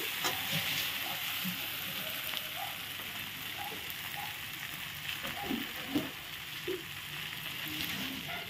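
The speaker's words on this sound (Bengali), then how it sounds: "মশলাটা দিয়ে আমি এখন ভালো করে সম্পূর্ণ কাঁঠাল কষিয়ে নেব" Young jackfruit is being fried with spices in a pan, giving a steady, soft sizzle with scattered spoon scrapes and small clinks. The cooking sounds are close but fairly quiet, with no talking.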